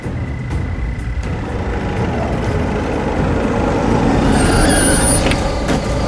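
A vehicle in a chase hisses to a halt with an air-brake burst under a steady loud engine and road rumble, a faint beep rising near the end; no talk.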